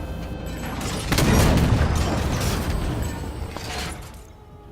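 Heavy booming blasts and gunfire from the Halo 5: Guardians video game, with a loud broadband explosion about one second in that rumbles on and slowly fades, while bursts of shots crackle through the dense, continuous battle noise.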